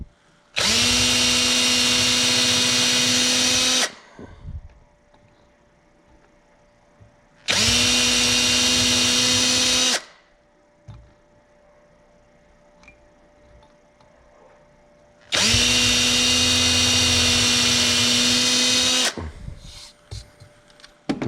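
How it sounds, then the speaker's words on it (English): A power drill boring holes in wood for a decorative rifle wall mount, three loud sustained whirring bursts of a few seconds each, separated by quiet gaps with faint handling clicks. "Okay, so we have our holes drilled"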